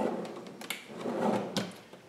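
A kitchen cabinet drawer on full-extension, 75-pound-rated slides rolls open or shut with a soft rumble and a couple of light knocks, fairly quiet and close, with no voices.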